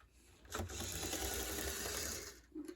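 An HO scale Bachmann model locomotive with a cracked gear runs steadily, giving a continuous whirring, buzzing mechanical drone close by that starts abruptly and holds for about two seconds before cutting off.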